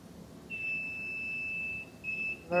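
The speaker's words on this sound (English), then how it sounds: "There's our alarm saying we hit our 410." A powder coating oven's temperature alarm sounds a faint, steady high-pitched electronic tone, holding for over a second, pausing briefly, then resuming before a louder clunk at the end.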